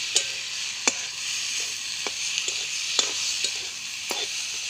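Spices with salt and turmeric fry in a pan for a river chela fish curry, giving a steady close sizzle broken by periodic sharp spatula taps and stirs, with no voices.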